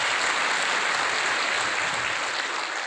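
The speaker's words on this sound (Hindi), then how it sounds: "सब लोग जोरदार तालियों से" An audience applauds at a birthday gathering, a dense and steady wash of clapping from many hands that holds at a constant level throughout, with no voices on top.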